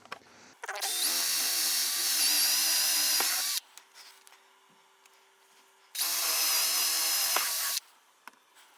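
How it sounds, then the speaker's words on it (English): A power drill whirs loudly in two separate bursts of a few seconds each, drilling holes for a model railway control panel, with quiet pauses and small clicks between. "I just need to drill a couple of holes"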